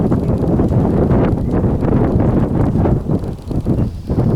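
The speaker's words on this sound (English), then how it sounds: "It's getting pretty windy out here." Steady wind roars and buffets across the whole stretch, with low rumbling gusts rising and falling and no clear voices.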